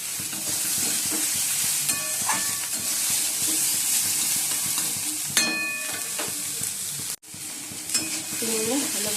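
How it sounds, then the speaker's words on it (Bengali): Beans, carrots and cauliflower sizzle in a pan, a steady close frying hiss with occasional stirring scrapes and clinks, briefly cut off near the end. "বিনস, গাজর, ফুলকপি ভেজে নিচ্ছি।"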